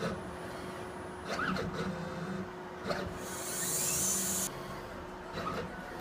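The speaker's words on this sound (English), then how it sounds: "It's cutting down the disc into the shape of the lens." An Essilor optical lens edging machine whirs and grinds as it cuts and traces a lens, a steady mechanical drone with a higher hissing burst midway and a few clunks, close with no talk.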